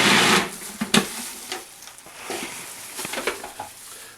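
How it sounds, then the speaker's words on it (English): Food processor pulsing parsley, olive oil and garlic into a thick pesto-like mix, with a few short bursts of chopping whir and rattle, fairly close, no talking. "I'm just going to pulse this a couple times"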